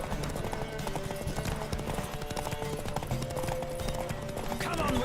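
Horse hooves galloping during a horse race in the video game The Witcher 3: Wild Hunt, a rapid continuous clatter of hoofbeats close up, mixed with game music and a brief shout.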